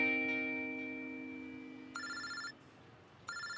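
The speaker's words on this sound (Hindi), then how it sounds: "ये पकड़, नजर फोन उठा।" A telephone rings in two short electronic bursts after a fading tone, fairly close and clear with no talk.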